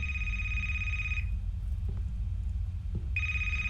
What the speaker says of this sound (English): Hearing a phone ring.